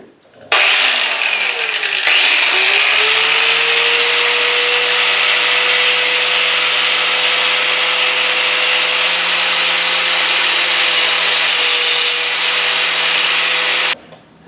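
An angle grinder grinds the stud ends off a motorcycle drive chain on a KLR650. It gives one long, loud, steady high-pitched whine with harsh grinding noise that runs close and unbroken for about thirteen seconds before cutting off.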